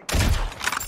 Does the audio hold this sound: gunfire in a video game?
yes